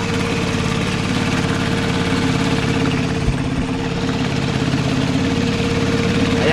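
Outboard boat motor running steadily and close by during beach fishing on the sea, a continuous droning hum with no talk over it.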